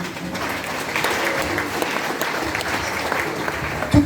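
A church congregation at a Haitian Baptist convention applauds during a birthday celebration, a sustained crowd of clapping hands heard close and fairly loud, steady throughout with a brief knock near the end.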